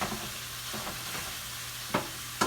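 A T-bone steak sizzles steadily in a pan, a soft continuous frying hiss broken by a few sharp scrapes or clanks near the end, with no voices.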